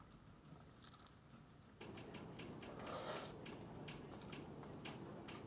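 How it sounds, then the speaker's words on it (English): Someone eats Taco Bell food close to the microphone, with soft crunching, biting and chewing sounds over a quiet room background, no speech. "Did I slurp?"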